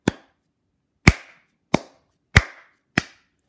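Light taps on a homemade high-sensitivity clap switch circuit, followed by a hand clap: five sharp, separate, close impacts with quick decays, spaced unevenly over a few seconds, with silence between them.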